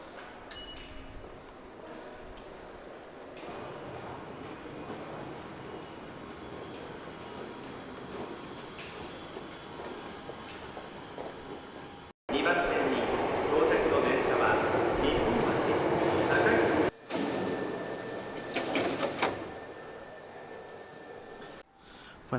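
Interior of an Osaka metro train, a steady rumbling rail hum and rattle that swells louder partway through, with brief dropouts and faint background voices.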